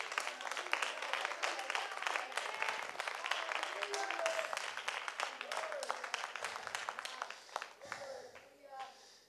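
Church congregation clapping hands during a sermon, a dense, sustained wash of rhythmic claps that fades toward the end, with voices mixed in.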